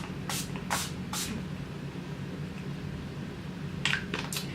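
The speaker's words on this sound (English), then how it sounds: "I will use Urban Decay's De-Slick makeup setting spray. Just shake" Urban Decay De-Slick makeup setting spray spritzed in three quick bursts near the mic early on, then two or three more short hissing sprays toward the end, with quiet background hum between.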